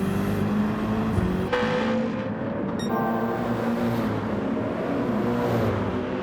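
Race cars including a BMW M6 and a Mercedes-AMG GT roar around the Dragon Trail circuit in Gran Turismo 7, a steady close engine drone with rising and falling revs and sharp gear shifts, no talk.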